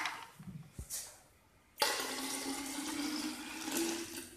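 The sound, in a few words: water being poured out of a glass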